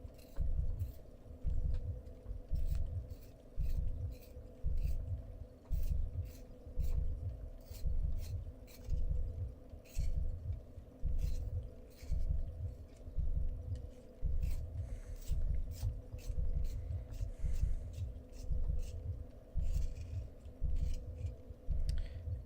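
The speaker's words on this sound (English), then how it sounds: "It's a Blackwing sharpener." A Blackwing hand-crank pencil sharpener shaving a pencil, a rhythmic rasping grind repeating in steady strokes about once a second, close and fairly quiet, with no talk.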